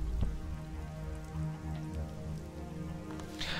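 Soft, steady rain patters across surfaces in the video game ELEX, a quiet continuous wash of drops with a faint low rumble beneath, with no voices.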